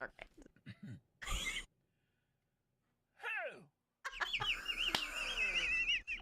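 A man mimics an Arkansas owl with his voice in several short hooting and screeching bursts separated by silences, followed by a longer warbling call, close and clear.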